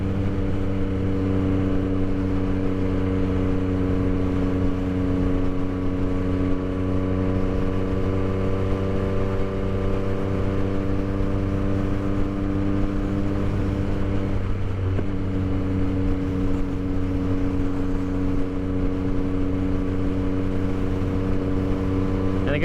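A 2022 Yamaha XSR900 motorcycle pulls steadily in sixth gear, its engine drone rising gradually in pitch, loud and close against continuous wind noise for over twenty seconds.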